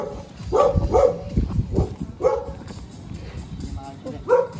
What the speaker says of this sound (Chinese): 他们家有个大狼狗